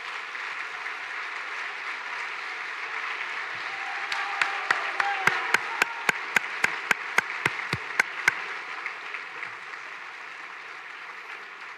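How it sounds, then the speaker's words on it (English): Audience applause at a school academic awards ceremony as esports team members stand, a steady murmur of clapping crowned by a run of sharp, evenly spaced hand claps that swell and then fade. "Give him a hand of applause, please."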